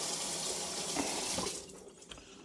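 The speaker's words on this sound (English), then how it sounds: "I'll come over here and rinse this off a little bit." Carrots being rinsed under a running kitchen tap, a steady nearby gush of water that eases off toward the end with a faint clunk.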